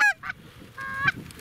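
Snow geese in a flock give loud, close honking calls, two bursts separated by a brief lull, with a softer call trailing at the end.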